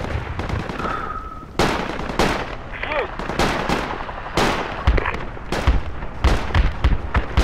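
Gunfire and grenade explosions in Project Reality, repeated close shots and heavy blasts in irregular bursts, with scattered rapid fire between them.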